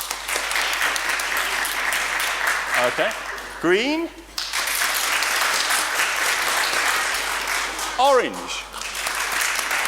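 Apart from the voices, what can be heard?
audience clapping to vote for colours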